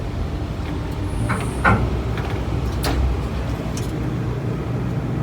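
A motor runs steadily as it is being checked, giving a continuous low rumble close by with a few faint clicks and knocks on top and no talking.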